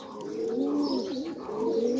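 Pigeons coo nearby in soft, rolling, throaty phrases repeated over the whole moment, with no talk.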